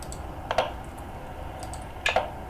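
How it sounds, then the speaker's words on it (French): Two short pairs of crisp knife-on-board taps as a lemon is sliced in the Cooking Simulator video game, light and close over quiet background hiss, spaced well apart. "On va couper du citron."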